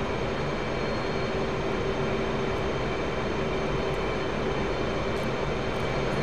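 Steady, loud jet engine roar from an F/A-18C during a carrier landing approach in the DCS flight simulator, a constant broadband drone filling the whole stretch with no talk.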